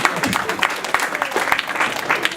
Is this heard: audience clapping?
yes